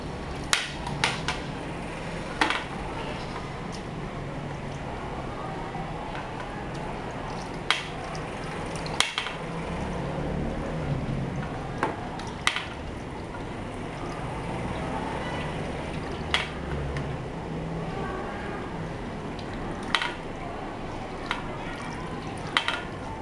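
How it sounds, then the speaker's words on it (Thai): An old-style floor mop is dunked in water and twisted to wring it out, close up, with continuous sloshing and dripping broken by scattered sharp knocks. "ขั้นแรกนะคะเราต้องจุ่มน้ำไป แล้วก็ทำการบิด"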